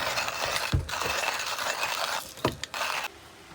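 A hand-cranked coffee grinder works through beans in a boat's galley, giving a steady close-up gritty scraping and ratcheting with a few sharper knocks and brief pauses, and no one speaks.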